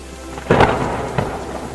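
Heavy monsoon rain pours steadily and close while a sharp crack of thunder breaks through, followed by a softer second rumble, with no voices.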